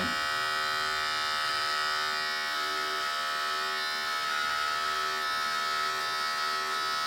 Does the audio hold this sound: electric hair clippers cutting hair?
yes